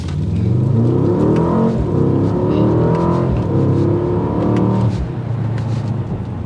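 A 2024 Mercedes-AMG GLE 63 S V8 SUV in Sport Plus mode roars as it accelerates hard, pitch climbing through gear changes, loud and close, with a brief dip before pulling again.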